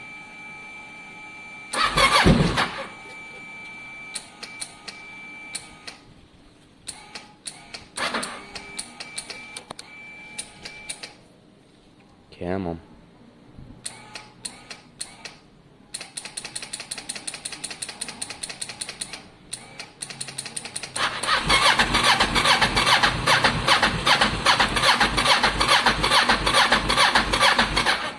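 A Kawasaki ER6n motorcycle engine from a salvaged wreck cranks repeatedly, sputters, then catches and idles roughly and unevenly, growing louder toward the end, with a brief spoken word early on.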